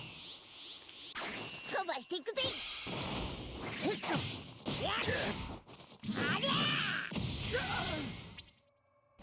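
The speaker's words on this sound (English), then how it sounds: "let's do a super attack" A super attack from the Dragon Ball Daima video game, heard as a rapid burst of whooshes, whacks and crashing impacts with energetic effects, loud and close for several seconds before cutting off.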